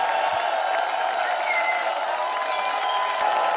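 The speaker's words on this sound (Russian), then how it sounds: "Вам аплодисменты." A studio audience at a Russian television talent show claps continuously, a steady, even roar of applause filling the room with light cheering mixed in.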